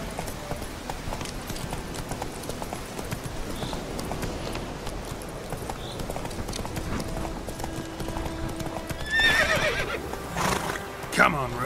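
Roach, Geralt's horse in The Witcher 3: Wild Hunt, gallops with rapid rhythmic hoofbeats throughout, joined near the end by a loud neigh and whinny.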